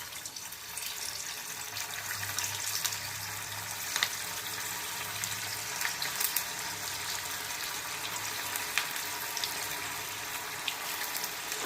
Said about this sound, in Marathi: आता आपण हे फ्राय करून घेऊया.